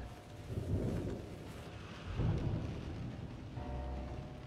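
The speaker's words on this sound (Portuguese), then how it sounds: "Lá de fora uma chuva estranha." Steady video-game rain falling with low rumbles of thunder rolling in the background, faint and distant-sounding, heard from indoors, with no voices.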